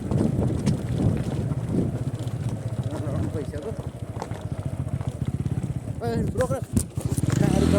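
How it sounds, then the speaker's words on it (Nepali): A motorcycle being ridden outdoors gives a throbbing engine rumble mixed with gusty wind buffeting the microphone, with voices heard along the way and a brief sharper burst near the end. "जाडुले आज बाइक चलाउँछ"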